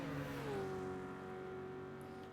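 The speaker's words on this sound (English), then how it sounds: "I'm surprised the 406 with a 3-litre V6 has such a low top end." A Peugeot 406 with a 3-litre V6 in Gran Turismo 5 holds a sustained engine note that drops in pitch early on and then settles into a steady, moderately loud cruising hum.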